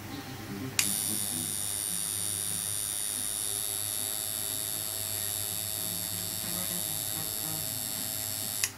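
Electric tattoo machine buzzing steadily as it inks a finger, a continuous close, high-pitched hum with a constant tone that starts abruptly and runs unbroken, with no talk over it.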